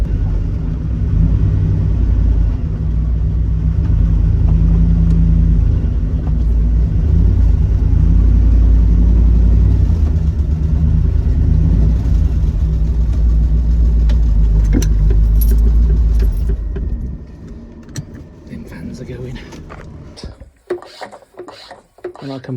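A Jensen Healey V8, just fitted with new cylinder heads, idles loud and steady with a deep rumble for about sixteen seconds, then shuts off, leaving faint clicks and light handling noises.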